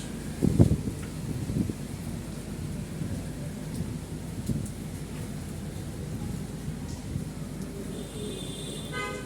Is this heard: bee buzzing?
no